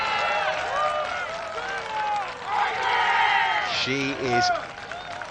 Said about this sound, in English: That's the Ina Yoon cheer, isn't it?